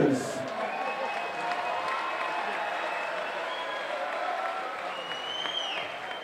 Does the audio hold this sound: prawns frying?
no